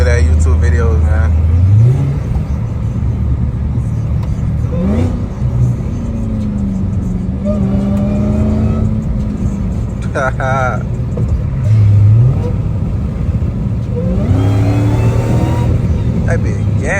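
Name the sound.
Dodge Hellcat Redeye engine revving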